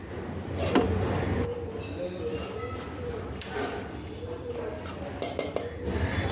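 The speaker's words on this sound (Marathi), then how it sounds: "आता आपल्याला मोठं मिक्सरचं भांडं घ्यायचं आहे यात हे गहू घालायचे आहे" Whole wheat grains tipped from a sieve into a large mixer jar make a steady rattling, clattering pour with sharper knocks of grain and metal on the jar, fairly close and continuous throughout.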